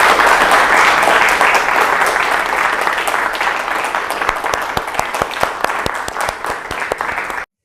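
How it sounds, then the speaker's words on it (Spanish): A room full of people applauds after a telecommunications lecture, loud dense clapping that starts strong, thins slightly into scattered claps, then cuts off abruptly. "Agradecemos nuevamente con unos aplausos"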